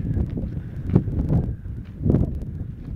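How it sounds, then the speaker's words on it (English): Headwind gusting across a microphone while walking the Camino de Santiago trail between Carrión de los Condes and Moratinos, a low rumbling buffet that swells and eases in uneven surges throughout. "We have the wind coming on head, so he's kind of shielded from it as well"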